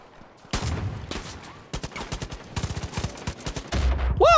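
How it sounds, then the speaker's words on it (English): Gunfire and a grenade blast in Far Cry Arcade: a big burst opens it, then fast rhythmic assault rifle volleys crackle close and loud, ending in a heavy explosive rumble, no talking. "There was like a grenade that went off right next to you."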